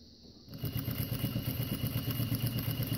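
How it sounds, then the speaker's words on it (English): A sewing machine stitches along the top of a fabric zip bag, starting after a short pause and then running in a fast, steady mechanical chatter close by. "I'm pretty much just sewing so that the edge of the fabric is on the inside of the foot"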